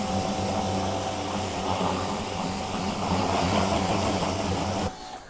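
Pressure washer rinsing a Corsair wheel, a loud steady hissing spray with an engine drone underneath, running continuously before cutting off abruptly near the end.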